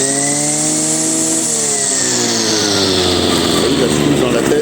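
A backpack brush cutter fitted with a bramble blade runs close by, its engine whining at a steady pitch and then revving up sharply into a louder, rougher roar.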